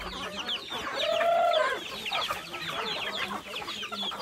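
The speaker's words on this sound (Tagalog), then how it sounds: "ganito karami yung native chicken natin dito sa planeta natin" Native chickens cluck in a busy flock nearby, with overlapping calls and one longer drawn-out squawk standing out over steady farmyard noise.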